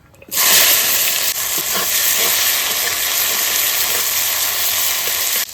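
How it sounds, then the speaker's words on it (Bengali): Onions hit hot oil already tempered with cumin and bay leaf and burst into a loud, constant close-up hiss that begins abruptly and holds steady throughout. "পেঁয়াজটা তাড়াতাড়ি ভাজার জন্য আমি লবণ দিয়ে দেবো"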